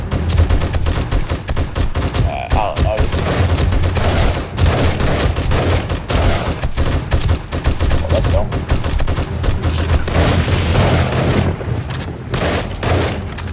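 Continuous loud rifle fire in 7 Days to Die during a nighttime horde battle, shots cracking in quick succession with hardly a break, over a heavy low rumble.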